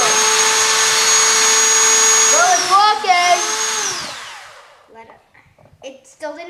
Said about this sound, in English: we're trying to drill a hole in the end with a drill